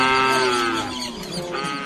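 One animal from a Payok herd of some 7,000 cattle being driven toward a river gives a single long, low moo that slowly falls in pitch and fades, with nothing else sounding around it.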